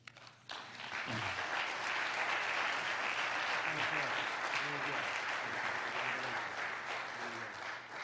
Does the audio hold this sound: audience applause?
yes